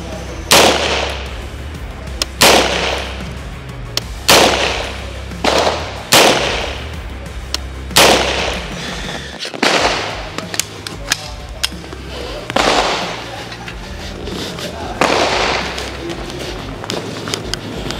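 Single shots are fired one at a time from a UTAS UT9-M Mini at a target. The reports are sharp, loud and close, spaced about two seconds apart, with brief talk between some of them.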